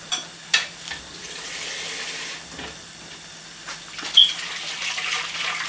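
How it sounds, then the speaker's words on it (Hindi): A small splash of water poured from a jug into matar paneer masala in a pan, a soft running trickle with faint sizzling and a few light clinks of utensils, no voices. "और इसमें बिल्कुल थोड़ा सा पानी डालेंगे।"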